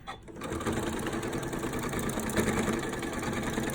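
A sewing machine stitches quilt binding, running close and steady with a rapid mechanical rattle that continues without a break after a brief start.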